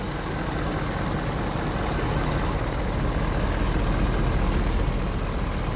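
A 2019 Ford F250 XLT Powerstroke diesel idling with its cooling fan running, a loud, steady, broadband roar that holds constant throughout, with no voices.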